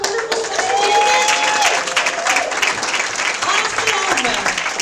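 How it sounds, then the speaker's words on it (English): A congregation applauds after special music at a Sunday celebration service, loud dense clapping with cheers and voices rising through it, continuing steadily throughout. "Can we have another round of applause for our wonderful special music?"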